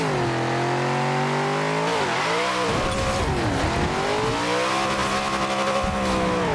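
A car in Forza Horizon 4, set up for wheelies, revs hard while held on the brakes, its engine rising and dipping in pitch with tire squeal mixed in, loud and continuous throughout.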